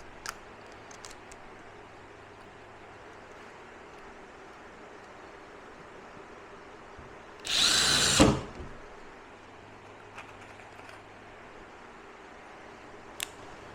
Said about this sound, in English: And it doesn't take much to drill through that.